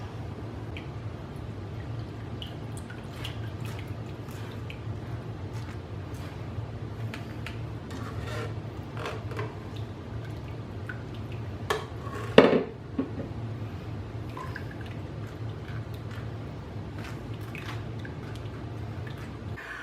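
Chile sauce for chicken adobo is worked through a metal strainer, giving soft scraping and scattered clinks of utensil on mesh and bowl over a low steady hum, with one sharper metallic knock midway.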